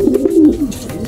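Pigeons coo in a short run of soft, low, warbling notes, close and clear with no talk, from racing pigeons that have come back to roost.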